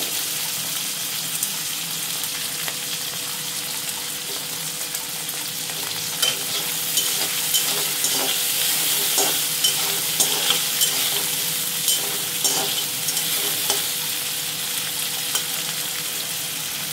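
Sliced onions frying in hot oil in a pan, a loud, steady, broadband sizzle with repeated soft stirring scrapes through the latter half.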